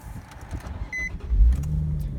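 A Nissan 350Z is cranked over: a brief starter chime and whir, then a rising low rumble as the engine catches and settles into a steady idle, recorded close by.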